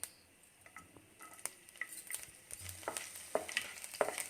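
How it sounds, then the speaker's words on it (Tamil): Mustard seeds and urad dal spluttering in hot oil in a pan, faint crackles and sporadic pops over a low sizzle, with occasional spoon scrapes and clinks as it is stirred. "கடுகெல்லாம் நல்லா பொரியட்டும்."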